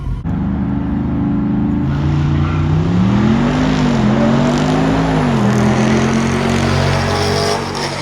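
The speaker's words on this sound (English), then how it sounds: "for this race, we're racing a Grand Sport Corvette" A modified Jeep Wrangler Rubicon 392 drag races a cammed, bolt-on Grand Sport Corvette, the loud engine roar rising steadily in pitch as one car accelerates hard down the strip, continuous for several seconds.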